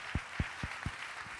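A few sharp, evenly spaced hand claps at an event in Lyon, quiet and isolated, five or so beats over a second with a hum of room noise behind.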